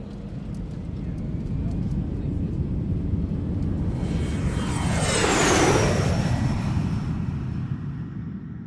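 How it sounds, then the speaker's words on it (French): A jet airplane taking off, its engine roar swelling from a steady background rumble to a loud peak with a rising whine, then easing away, under a continuous low bed of sound. "préparez-vous pour le décollage."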